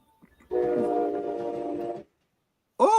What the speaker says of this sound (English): I got a train coming through.